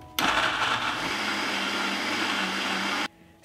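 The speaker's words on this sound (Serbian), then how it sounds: "Poklopit ću i sve ću izblendirati." A kitchen blender purees red peppers and a whole peeled garlic head, whirring loud and steady for about three seconds before cutting off abruptly.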